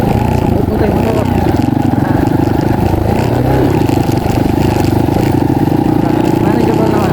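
Motorcycle engine droning steadily up close while riding a bumpy, potholed road near a bridge, with a flat front tire, loud and continuous throughout.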